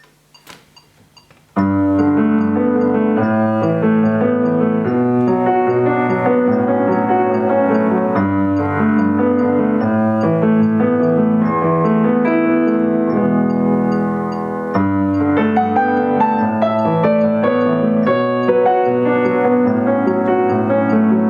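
Solo piano plays a piece at a moderate, steady pace after a brief pause, with full sustained chords and a melody line held at an even, fairly loud level through to the end.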